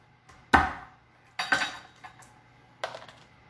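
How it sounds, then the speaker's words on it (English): A knife chops garlic on a board: three sharp, close knocks spaced about a second apart, each with a short ringing decay in a quiet kitchen. "So I'm just chopping up some garlic"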